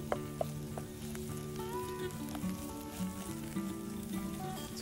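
Onions frying in a pan on a firebox stove outdoors, a steady close sizzle with light crackles and the occasional clink and scrape of stirring.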